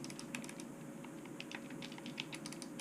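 Clicky buttons on a Razer Raiju game controller are pressed in a quick irregular series of sharp, close taps, some in rapid pairs, over a faint steady hum.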